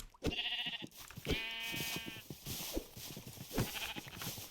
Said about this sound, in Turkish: Aha koyun bulduk güzel oldu. Merhabalar canım koyun.